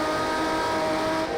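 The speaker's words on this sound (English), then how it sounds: "It does sound amazing, that Jaguar, doesn't it?" A Jaguar Group C race car engine roars in the video game Project Cars 2 during an online race at Algarve, a loud, sustained high-revving drone heard continuously over the short moment without talk.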